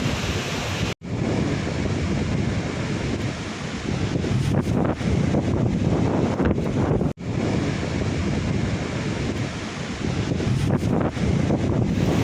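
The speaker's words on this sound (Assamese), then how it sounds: "ওপৰৰ পৰা পানী তেনেকৈ চিৰিত পৰি আহি আছে।" At Jang waterfall in Tawang, Arunachal Pradesh, rushing water roars in a dense, unbroken wash while strong wind buffets the microphone, loud and close.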